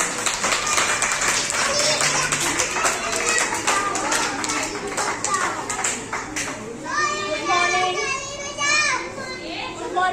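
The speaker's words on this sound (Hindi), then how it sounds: "तो बच्चों एक बार उनके लिए तालियों के साथ स्वागत करें उनका।" Children in a classroom applaud to welcome a teacher at a Teachers' Day celebration, a dense burst of clapping mixed with excited kids' voices and chatter that carries on throughout, with shouting and talking rising near the end.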